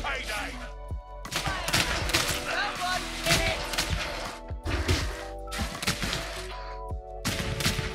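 Gunfire in Warhammer Vermintide 2 during a fight with rat enemies, with loud, repeated bursts of shots mixed with heavy impacts and crashes over a steady low rumble.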